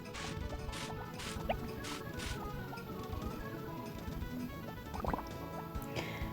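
Watering crops with the harvest sprites in Harvest Moon, soft quiet splashing and dripping water effects repeating in short bursts over faint game background sounds.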